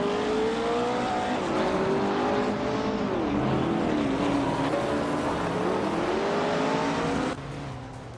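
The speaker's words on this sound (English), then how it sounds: "Cheriffa Kitten is racing a 1968 Porsche 912 R" A 1968 Porsche 912 R engine drones loud and continuous through a race, its pitch gliding up and down through gear changes before dropping sharply near the end.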